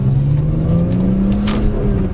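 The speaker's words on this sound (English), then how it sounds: "Little rev match there" A high-mileage BMW M3 with an SMG gearbox blips its engine to rev-match on a downshift, a loud, close, sustained engine drone that rises and falls slightly while driving, with no talking.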